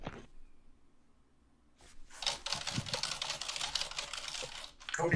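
Keys on a computer keyboard typed in a rapid, close run of clicks that starts after a quiet opening and continues steadily to the end.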